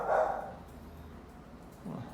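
Several dogs bark out in a residential street, a burst of barking at the start and another short bark near the end, moderately loud with quiet between.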